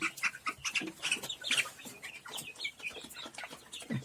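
Chickens and a rooster cluck and chatter continuously nearby in a coop, a busy overlapping flock of short clucks with occasional higher calls.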